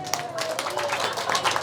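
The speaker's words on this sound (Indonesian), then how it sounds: "tepuk tangan dulu buat Bayu" A community gathering's audience claps for Bayu, a brief burst of quick, overlapping claps from a modest crowd, with a voice speaking over it.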